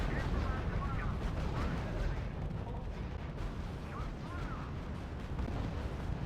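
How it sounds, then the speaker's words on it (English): Distant rumbling artillery and gunfire from the wartime strategy game RUSE form a dense, continuous low din, with faint radio-style unit voices mixed in beneath the battle noise. "Squad commander, open fire on target."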